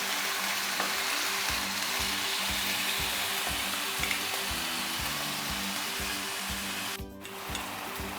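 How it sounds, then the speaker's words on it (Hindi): Chicken frying in a pan for a stovetop deep-dish pizza filling, with a loud, steady sizzle and crackle that runs almost unbroken across the clip. "बस इसको अच्छी तरह भूनते हैं।"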